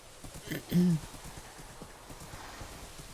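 Horse hooves clip-clop through rain in a video game, a few soft uneven steps under faint patter, with a short louder snort or whinny early on.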